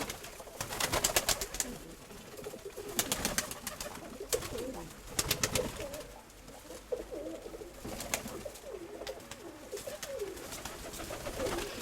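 Pigeons cooing in low, throaty rolls, repeated in several bursts, with sharper bird noises and rustling of a nearby loft mixed in.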